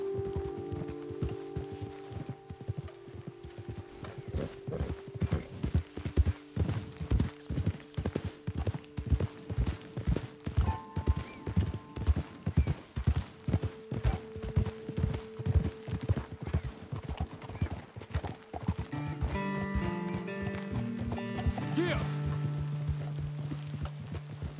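Horses walking in the Red Dead Redemption video game, a steady rhythmic clip-clop of hooves that runs throughout at close range, with faint game tones and a low hum in the background.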